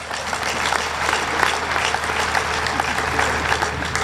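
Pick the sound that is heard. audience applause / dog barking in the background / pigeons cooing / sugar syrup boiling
audience applause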